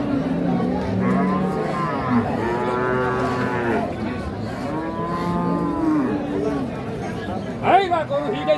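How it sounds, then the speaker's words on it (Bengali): Sahiwal-Sindhi cow and calf at a busy cattle market give several long, drawn-out moos in a row, close and loud, over a background of crowd chatter and voices. "এখানে একটা দেখছি শাহিওয়াল ষাঁড় বাচ্চা, সেই সাথে গাভী।"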